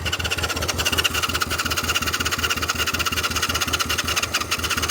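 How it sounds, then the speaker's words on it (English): A 1998.5 Ram 3500 with a 24-valve 6BT Cummins diesel cranks after winter without firing. The starter churns loud and close in a steady, fast rhythmic chug for the whole stretch, with no catch and no talking. "I don't think it'll fire up for us today."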